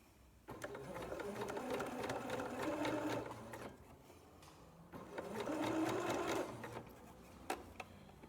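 A sewing machine stitches t-shirt fabric for a bralette, running in two sustained bursts with a steady mechanical whir and a brief pause between them, close and moderately loud.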